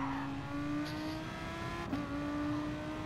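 Audi race car in Gran Turismo Sport holding a steady, loud engine drone at high revs, with a brief dip around a gear change before the tone climbs again, sustained throughout with no talking.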